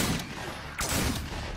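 A shotgun fires in the Fragmented video game: a loud blast with a noisy tail, then a second sharp shot close behind, both near and forceful.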